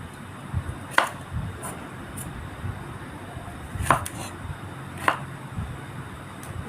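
A few sharp knife chops through eggplant on a cutting board, spaced irregularly, against a steady low background hum.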